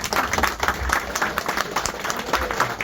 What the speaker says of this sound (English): Let us give a standing ovation. Huge clap, please.